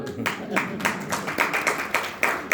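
A small audience claps in a quick, uneven patter that runs steadily throughout at a religious discourse on the Gita.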